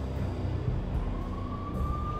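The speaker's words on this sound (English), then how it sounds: "The NYPD was closing in. I could hear the sirens. Their wail was a crescendo." Police sirens in the Max Payne video game, a steady wailing tone rising slowly in pitch over a dense, rumbling game backdrop, moderately loud and uninterrupted.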